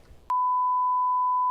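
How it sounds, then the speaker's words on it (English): A single steady censor beep tone cuts in abruptly after a brief moment of low background noise and holds loud and unbroken to the end. "we're beeping all this, right?"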